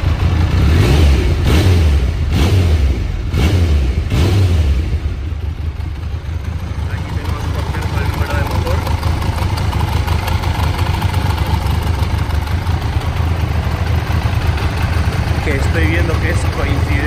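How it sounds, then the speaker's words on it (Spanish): A red 1996 Triumph Daytona 900 Super III engine revs in several sharp, loud blips, then settles into a steady, rumbling idle up close for the rest of the time. "Un poco sonoro el motor, pero bueno, luego en marcha la verdad que tiene un buen sonido y responde muy bien."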